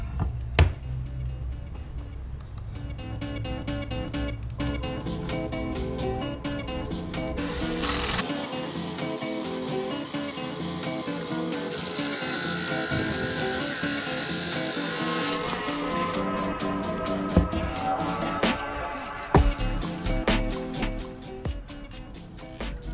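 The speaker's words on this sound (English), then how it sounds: "Let's see how well it cuts marble." A Makita cordless 12V handheld tile saw whines steadily as it cuts through marble scrap, with the motor pitch rising and falling through the cut, close and continuous.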